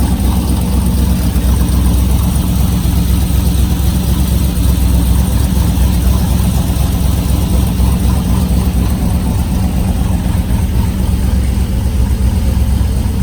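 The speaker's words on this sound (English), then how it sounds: "this particular car has the 525 cam in it. So as you can see, you can hear, it's a pretty lopey cam at idle" An FM V8 engine with a 525 cam idles in a loud, continuous, deep rumble close by, steady throughout with a slightly uneven pulse and no voices.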